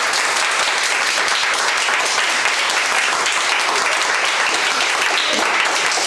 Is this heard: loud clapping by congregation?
yes